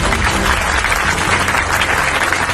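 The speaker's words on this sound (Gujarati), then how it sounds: "એ બદલ એમના માટે આપણે સૌ લોકો તાળીઓ વગાડશું" Dense, steady applause from a large audience cheering Surat police personnel at a public event with Gujarat's home minister, loud and sustained throughout with no breaks.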